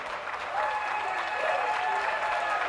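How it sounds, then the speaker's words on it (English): Audience at a Blackpool championship dog show giving steady, full applause throughout, a dense wash of clapping from a large indoor crowd without any voices. "Big round of applause for all of them,"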